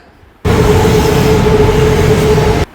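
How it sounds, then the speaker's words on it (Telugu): A BTS Skytrain in Bangkok passes close by on its elevated track, with a sudden loud, steady rush and rumble and a faint whine, cutting off abruptly after about two seconds. "బీటీఎస్ స్కై ట్రైన్ వెళ్ళిపోతుంది"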